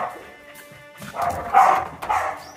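Puppies in a daycare pen on a farm give several short, high barks and yips in quick bursts, fairly close, over a muffled indoor background.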